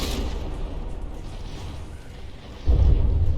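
A battleship deck turret explodes in the From the Depths naval battle game, a dense roaring rumble of continuous booms that swells into a deep, heavier blast near the end.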